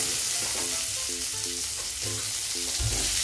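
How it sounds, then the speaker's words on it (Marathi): Sliced onion sautéing in a pan with ground masala paste and urad dal: a continuous close sizzle with intermittent stirring scrapes and a heavier clatter near the end. "उभा चिरलेला कांदा आहे तो पण परतून घ्यायचा।"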